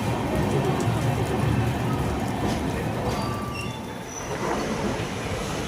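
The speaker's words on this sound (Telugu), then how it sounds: "ఆన్ టైం మన ట్రైన్ అయితే చెన్నై సెంట్రల్ నుండి బయలుదేరిపోయింది" The Chennai Central to SSS Hubballi Express pulls out of Chennai Central, a loud steady rumble of wheels and rolling stock with faint squeals, heard from aboard with some chatter beneath.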